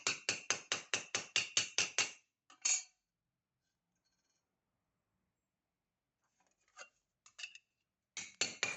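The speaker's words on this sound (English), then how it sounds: "Still need to hammer a little bit more." Rapid, evenly spaced wooden mallet blows on a rose gold-filled metal ring ring out, about nine in a row, then a pause and a few scattered taps before another quick burst.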